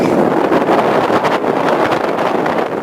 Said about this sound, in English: The wind is pretty strong down here today.